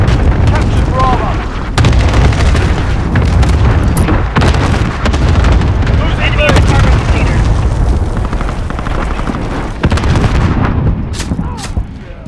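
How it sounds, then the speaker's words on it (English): Cluster strike explosions in a Call of Duty Warzone multiplayer match: a loud, continuous barrage of booming blasts and gunfire that rolls on for several seconds, with game voice callouts mixed in. "Allied cluster strike in."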